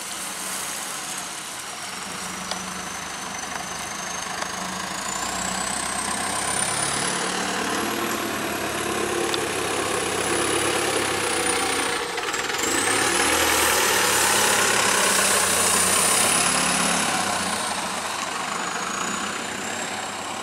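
An Arriva North West single-deck bus on the Route 4 Macclesfield Circular idles nearby with a steady, loud diesel rumble, plus a faint high whine rising and falling above it.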